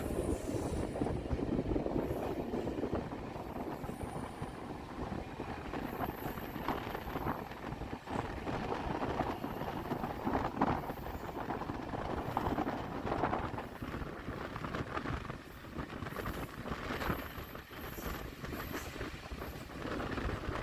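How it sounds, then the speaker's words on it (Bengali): The Puri–Shalimar weekly superfast train 12896 roars past close by at Uluberia station, a continuous loud rush of wheels and carriages with rhythmic clatter and wind buffeting the microphone throughout. "পুরী থেকে ফিরছে আরও একটা ট্রেন এটা one two eight nine six Puri Shalimar weekly superfast"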